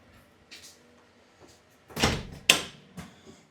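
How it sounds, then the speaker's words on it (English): A security door in a Halifax apartment building is opened with a key fob, giving a few scattered clicks and thumps followed by a louder latch clack and the door swinging, with no talking. "So again, a security door. Let's take our fob."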